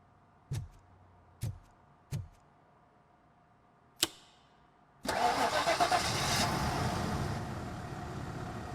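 In the video game Robocop Rogue City, a car engine cranks in a few sharp bursts, then catches and settles into a loud, steady running roar.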